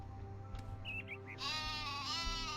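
A few bleating sheep calls in the video game My Time at Portia, over a steady background hum and music, moderately loud and close.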